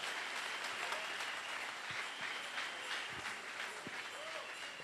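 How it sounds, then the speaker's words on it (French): Steady crowd clapping fills a church service, a continuous wash of many hands at moderate distance with faint voices mixed underneath. "Applaudissez pour Jésus."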